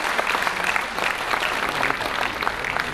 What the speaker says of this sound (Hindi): तालियों से इस्तकबाल कीजिए जनाब मुनव्वर राना साहब का।